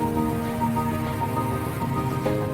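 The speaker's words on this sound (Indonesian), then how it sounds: "hujan pun mengguyur begitu hebatnya." Heavy rain pours down steadily in a dense, continuous wash with no pauses, caught during a motorcycle tour on the road to Dieng in Central Java.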